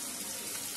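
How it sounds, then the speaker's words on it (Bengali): Water pours into a spice paste in a pan while cooking Bengali panchratna mixed dal, a brief, steady splashing rush that stays soft and even throughout. "দিচ্ছি একটু জল মশলাটা কষানোর জন্য"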